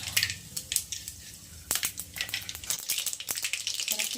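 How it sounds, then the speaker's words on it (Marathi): Mustard seeds crackling and popping in a little hot oil while cooking at home, a close, loud burst of sharp sputtering pops and sizzles without talk. "तेल टाकून घेऊयात आपण ह्याच्यात थोडेसे आहे ना मोहरी टाकून घेऊयात आपण"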